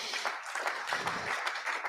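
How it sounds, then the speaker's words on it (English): Applause from an audience at the close of a session at an organisation's close-out event, dense broadband clapping held steady throughout, moderately far and filling the room. "let us do us the honor by giving this session a big round of applause"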